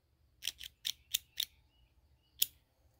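Pairs of scissors are handled during a small crocheting-supplies haul, giving about six sharp metallic snips and clicks, five in a quick irregular run and one more after a pause, close and fairly quiet.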